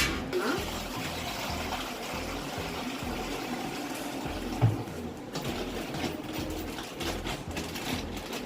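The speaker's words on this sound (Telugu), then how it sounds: "ఇప్పుడైతే వాటర్ వేసుకొని నూడిల్స్ అయితే ఉడకబెట్టుకుందాం" Water is poured into a cooking pot to boil noodles in a home kitchen, a continuous gurgling splash running for several seconds at moderate loudness, with no talking over it.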